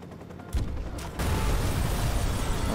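In the video game Watch Dogs, a grenade launcher fires and explosions follow, two sharp blasts about half a second apart swelling into a loud, sustained roaring wash of blast noise.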